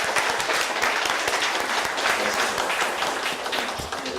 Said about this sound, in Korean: 우리 나고야 여러분들께 힘찬 박수 부탁드립니다.